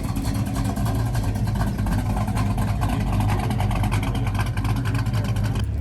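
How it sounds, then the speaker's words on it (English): Loud American muscle cars rumble out of a car meet, deep throaty engine burble and revving filling the scene steadily at close range, with no talk. "I got to witness these loud American muscle cars on the way out"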